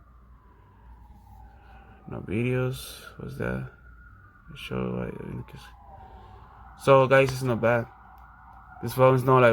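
A police siren wails in the distance outside amid New Year celebrations, its pitch slowly sliding, while a person talks nearby in short bursts over it.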